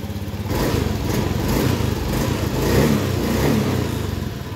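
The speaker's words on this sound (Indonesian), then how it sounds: "Nah, motornya hidup ya." Honda BeAT Street scooter engine idling just after starting, with a fault that makes it hold revs and nearly stall; a close, steady low putter with slight fluctuations.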